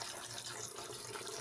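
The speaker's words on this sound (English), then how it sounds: "Let me put water in their bowl for the kitties." Water is poured from a tap into a cats' water bowl, a steady broadband splashing and running stream that continues without pause and sounds close by.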